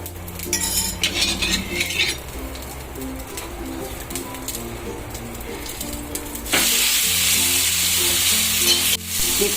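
Uttapam sizzling in oil on a pan after being flipped, a steady close frying hiss with faint clinks and chirping birds in the background, the sizzle growing louder and brighter partway through.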